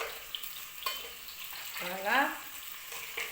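Crab added to softened onions in a pot and frying, giving a steady sizzle with stirring and scraping, close, while a voice says a brief word.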